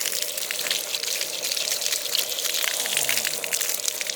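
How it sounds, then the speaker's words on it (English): Water runs steadily from a tap as a little girl washes her hands, a continuous close splashing rush with no pauses. "Show them how good you can wash your hands."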